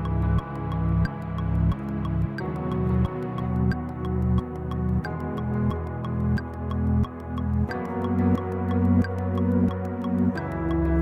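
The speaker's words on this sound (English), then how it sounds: "darken the sound, darken the dulcimer" Keyboard dulcimer patch, darkened with a low pass filter, plays a two minor walk-up: sustained plucked chords over low bass notes changing every bar or so, with a bright tick on each attack, no voices.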